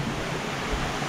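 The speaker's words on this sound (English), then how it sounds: "I am here, Namrang waterfalls." Steady broadband roar of Namrang waterfall in East Sikkim, India, a dense continuous rush of falling water filling the scene at moderate level, with no voices over it.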